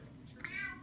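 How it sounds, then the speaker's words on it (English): A house cat lets out a single short meow nearby, a brief rising-falling cry in an otherwise quiet indoor room. "Sorry, my cat's meowing."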